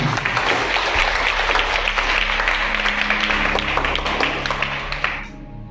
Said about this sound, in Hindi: नाम से जोरदार ताली होनी चाहिए।